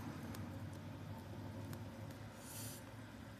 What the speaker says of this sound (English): Oh, good morning, little red car.